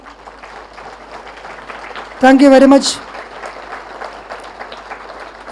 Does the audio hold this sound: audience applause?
yes